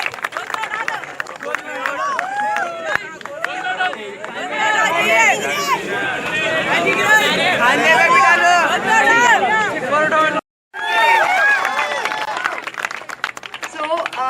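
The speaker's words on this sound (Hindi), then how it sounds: "जोरदार तालियों से उनका स्वागत करते हैं" A crowd at the Charminar Crime Free City 5K run applauds to welcome two young girl participants. The clapping swells through the middle of the scene, mixed with crowd chatter and a voice talking over a speaker.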